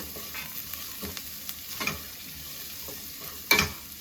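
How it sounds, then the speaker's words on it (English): Chickpeas and potatoes sauté in a pan under a continuous close sizzle, broken by a few sharp stirring scrapes, the loudest near the end. "I'm going to mix it all together, saute at the same time"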